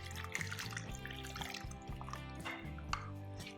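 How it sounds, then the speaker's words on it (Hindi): Water pours into a vessel of millet flour and is stirred, with soft liquid drips and trickles under faint background music, quiet and close throughout. "बाजरे के आटे में 2 गिलास पानी डाल के अच्छा सा मिक्स कर लूंगी"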